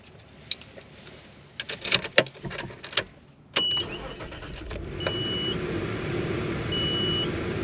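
A 1995 Nissan Pathfinder XE with a recently replaced starter makes a few clicks and clunks, then cranks briefly and fires into a steady, close idle that carries on, with a few faint electronic beeps on top.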